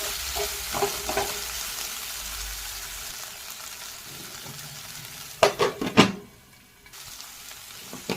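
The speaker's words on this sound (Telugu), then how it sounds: "ఇప్పుడు మనం కట్ చేసి పక్కన పెట్టుకున్న ఒక టమాటోని వేసుకొని టమాటో మెత్తపడేంత వరకు ఫ్రై" Tomato with onions frying in a pan, a steady soft sizzle broken by a burst of scraping and stirring clatter from a spoon against the pan midway, no voices.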